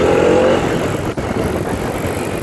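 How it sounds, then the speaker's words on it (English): Bajaj Dominar 400 motorcycle accelerating on a ride, a loud steady engine and road roar with a brief dip midway, close to the microphone and without talk. "So I'm going to accelerate now."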